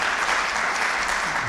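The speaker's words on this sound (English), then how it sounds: "let's welcome Bishop Cray and with a round of applause" Lecture audience greets a visiting bishop with a short burst of steady applause, a dense wash of clapping from many hands filling the hall at even loudness.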